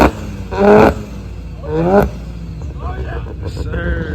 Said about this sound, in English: those RX-7 sound way better in person